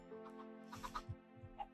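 Chickens clucking in Minecraft, a run of short, quiet bursts of clucks and squawks spaced through the moment, faint and close with no talk over them.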